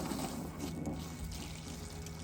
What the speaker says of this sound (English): I'm gonna pour some water over top of it and see what happens